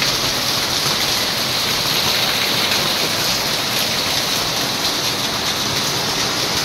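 Heavy rain pours down in Daet, a dense, loud, unbroken hiss of water drumming on surfaces that holds steady throughout with no voices.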